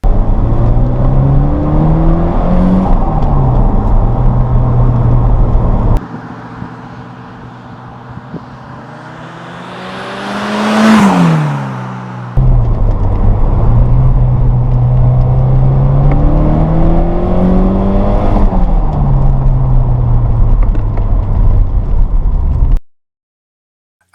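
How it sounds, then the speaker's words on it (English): Classic Lotus road car engine from around 1981 runs loud and close, rising and falling through revs with a gravelly gurgle, hiss and chattering wastegate flutter, easing off briefly mid-run before pulling hard again and cutting out. "that cami motorsport gurgle, gravelly hiss and wastegate flutter was always a joy to hear chattering away"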